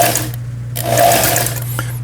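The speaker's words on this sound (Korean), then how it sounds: "뒤로 패턴 다이얼을 돌려야만 세발뜨기 바느질 정상적으로 작동되고 있고요." A Janome sewing machine runs a triple stitch, giving a steady close mechanical whir with a low constant hum, alone without talk.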